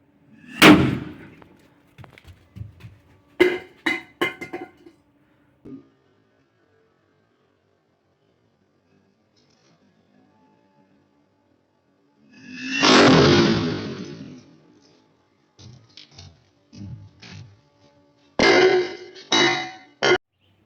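Several sharp firecracker bursts, set off electrically, crack out separately, followed by a longer roaring blast, then scattered smaller pops, close and loud, with silent gaps between them.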